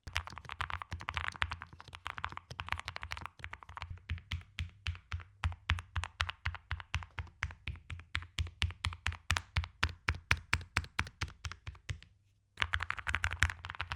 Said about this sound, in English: for a low-profile keyboard, which I know this is difficult to imagine, it is the best-sounding keyboard of anyone on this list